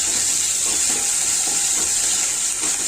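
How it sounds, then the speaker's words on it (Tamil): Mustard seeds splutter in hot oil for a tempering poured into instant buttermilk curry (mor kuzhambu). A loud, dense, continuous sizzling hiss fills the whole stretch, with no talking. "இப்போ நல்லா கடுகு தெரிச்சு வருது பாருங்கள்"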